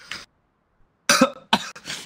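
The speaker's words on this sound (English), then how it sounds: "step back when you're coughing my face" Person coughing during a Rust game session, a faint cough at the start followed after a pause by a burst of loud, close coughs in quick succession.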